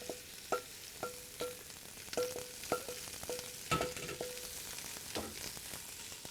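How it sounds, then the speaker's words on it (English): Onions frying in a hot pan and being stirred with a wooden spoon, with a steady sizzle broken by sharp clacks and scrapes at irregular intervals, close and moderately loud, with no talking. "I start cooking down the onions"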